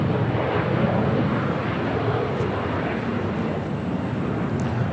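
An airliner takes off from runway 25 right at Los Angeles International Airport, a steady broad engine roar with wind rumble holding throughout, loud and continuous with no talk.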